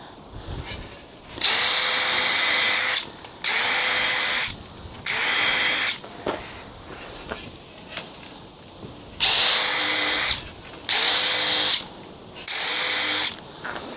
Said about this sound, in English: drill some pilot holes